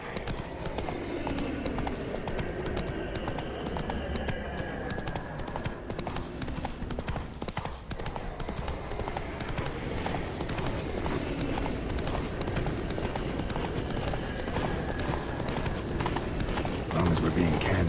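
Horse hooves clip-clop steadily throughout as Roach gallops in The Witcher 3, a continuous rhythmic beat under game music and ambience, with people talking over it.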